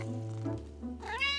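A cat gives a short meow, rising and then falling, near and fairly clear, with a low steady hum under it and a brief bright tone near the end.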